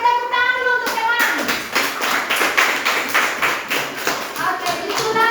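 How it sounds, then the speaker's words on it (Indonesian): A group of children clap their hands for a classmate in a classroom, a steady burst of fairly loud, close clapping with kids' voices mixed in throughout. "tepuk tangan dulu untuk teman"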